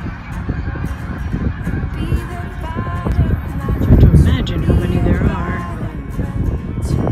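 A flock of snow geese honking continuously, a dense overlapping chorus with a surge in loudness midway as birds take off, a voice briefly under it.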